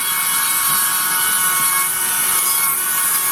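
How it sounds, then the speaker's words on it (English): A hand saw cuts through a block of wood being shaped into a wood spirit carving, a loud, continuous rasping grind close by with no pauses. "But the saw will definitely help me get some of it off."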